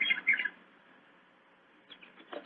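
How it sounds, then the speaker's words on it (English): Birdsong sound effect for a radio drama, a few bright chirps at the start and again near the end, faint and thin over near silence. "The sun was shining, the birds were singing"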